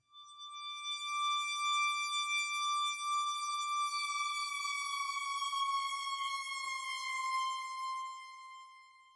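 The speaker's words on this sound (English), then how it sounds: "So the sound is a combination of the bright horn plus the reverb plus the delay." A bright, sustained synthesizer horn note with many overtones, swelling and ringing out with reverb and echoing delay before fading.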